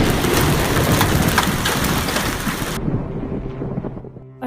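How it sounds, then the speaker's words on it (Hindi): A hailstorm with thunder in an animated story rolls as a loud, dense wash of pounding rain and rumble that cuts off abruptly near the end, leaving a quiet tail. "अब वो दिखता है कि बारिश की जगह बड़े बड़े ओले बरस रहे हैं।"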